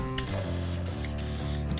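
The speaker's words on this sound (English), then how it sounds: "just spray some WD-40 in there" WD-40 is sprayed in short bursts into the rusty front wheel hub of a Honda CB650/VFR750 bobber motorcycle, the hissing puffs heard close alongside a whirring, ratcheting mechanical sound from the wheel.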